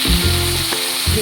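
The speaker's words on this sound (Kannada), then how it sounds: "ಈಗ ಇನ್ನೊಂದು ಸೈಡು ಫ್ರೈ ಆಗಲಿ." Afghani-style chicken tikka fries in a pan, producing a loud, close, continuous sizzle and crackle with a brief stirring shift partway through, no voices.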